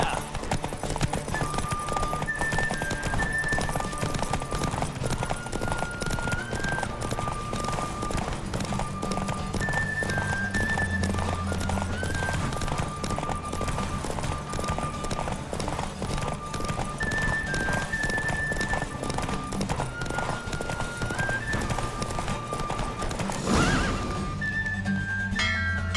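Rapid, rhythmic hoofbeats of a galloping horse in The Witcher 3: Wild Hunt continue throughout over a background musical melody, with a brief whoosh near the end.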